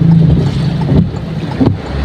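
Strong typhoon wind gusting outdoors during light, intermittent rain, a loud broadband rush with buffeting on the microphone and brief surges, with no talk.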